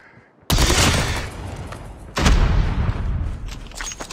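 Grenade blasts and gunfire in Call of Duty: Mobile on the Nuketown map, two loud booming bursts a couple of seconds apart, each followed by a rumbling, crackling tail.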